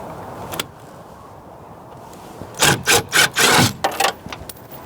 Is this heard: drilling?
yes